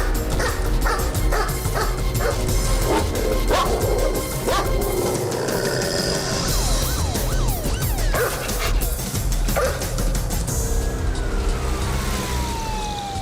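A spaniel barks repeatedly in short bursts with yips and whimpers, close and loud over a busy outdoor background with a siren wailing in the distance.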